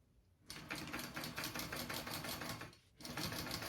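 A sewing machine runs steadily along a half-inch bag lining seam, its fast even rattle pausing briefly before starting again, close and clear.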